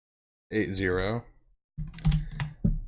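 A short burst of clicking keystrokes on a computer keyboard, close and distinct, following a brief spoken phrase.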